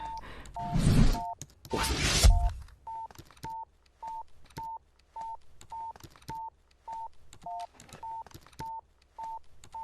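Two bursts of noise are followed by a steady run of short dual-tone phone dialing beeps, evenly paced and clear, with no talking.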